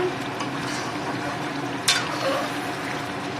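Meat kosha, spiced meat in oil, sizzles gently in a pan, a soft, continuous crackle with a few brief stirring or liquid sounds, fairly quiet and without speech.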